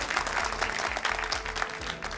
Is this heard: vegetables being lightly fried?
no